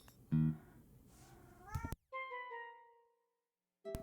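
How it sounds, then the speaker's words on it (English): A house cat lets out a loud, harmonic screech partway through, with a second drawn-out wail after a brief gap, close to the microphone in a quiet room. "my cat screamed at me"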